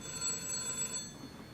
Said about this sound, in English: And then I also have a phone ringing.